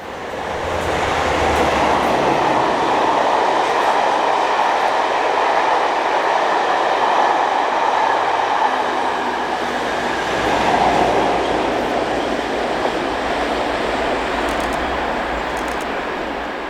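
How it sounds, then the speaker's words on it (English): A train rumbles steadily past on the railway line near Dewsbury, a continuous broad roar with faint wheel clatter, fairly close and sustained throughout with no talk. "I'm hoping there's a glimpse shot of the trains going over this bridge here."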